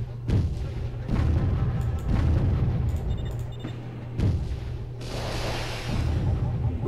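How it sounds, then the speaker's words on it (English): Rocket salvos in Warzone 2100 launch and burst in repeated heavy booms roughly every second or two, layered over a steady low hum and battle noise, with no voices. "Rockets away!"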